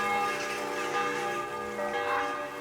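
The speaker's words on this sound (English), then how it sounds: "The bells, oh, the bells are tolling very bleeding loudly." Church bells toll loudly and continuously in the video game Kingdom Come Deliverance 2, rich overlapping bell tones ringing out with no speech over them.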